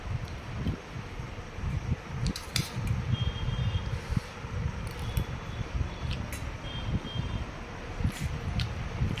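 A ceiling fan whirs steadily indoors through the whole stretch, a continuous airy rush with soft rattles and faint clinks from dishes nearby; no one speaks.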